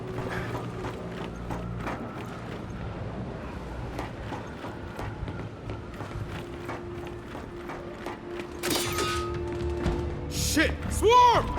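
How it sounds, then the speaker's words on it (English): Grind lift machinery in the Gears of War video game runs with a continuous mechanical clatter of gears and ratcheting, loud and close, swelling toward the end with some brief clanks. "I got a grind lift here."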